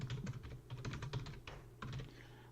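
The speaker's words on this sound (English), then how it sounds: "Why am I typing?" Rapid clacking keystrokes on a computer keyboard in quick irregular bursts with brief pauses, close and fairly loud, alone with no talk.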